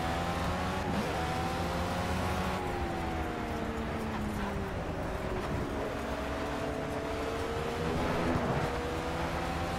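A Formula B race car engine in the video game Project Cars at Dubai Autodrome whines loudly and continuously, its pitch rising and falling with gear changes and throttle, with no speech over it.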